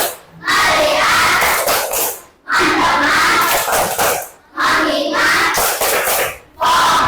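Bursts of loud group clapping and shouting from a class of students respond on cue, several sharp rounds separated by brief pauses.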